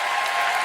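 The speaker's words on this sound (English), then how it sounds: "one more round of applause for our speakers" Brief burst of audience applause for the speakers after a comedy debate show, steady, dense clapping from a crowd heard for under a second.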